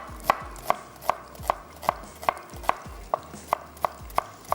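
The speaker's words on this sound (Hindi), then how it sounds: "प्याज को स्लाइस कर लेते हैं" A large onion sliced on a board, about a dozen crisp, evenly spaced knife chops at a steady rhythm, close and clear with no talking.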